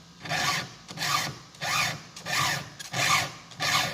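A hand file sharpening a skip-tooth chainsaw chain on a 20-inch bar, heard as six even rasping strokes in a steady rhythm, close up with brief pauses between passes.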